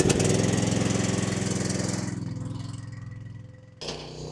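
A skid steer engine runs loud and close with a throbbing, knocking beat that slowly winds down in pitch and fades, then a brief abrupt burst of noise cuts in near the end.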